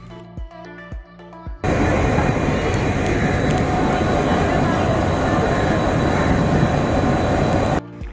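A Shah Latif Express passenger train rolls along the tracks close by, a loud continuous rumble of wheels and cars that starts abruptly after a quieter opening with a few low thumps and continues steadily to the end.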